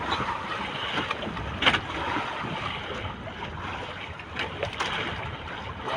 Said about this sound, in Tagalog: Palagbog sa alon